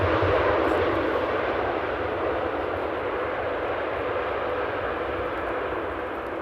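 A steady, loud roar of a jet airliner landing on the runway at Amsterdam Airport, broad and continuous, slowly easing off over several seconds with no voices.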